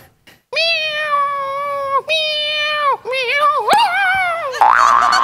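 A performer in a Marathi comedy sketch imitates a cat with a voice, giving several loud, drawn-out meows in a row close to the microphone. The last meow breaks into a rougher cry.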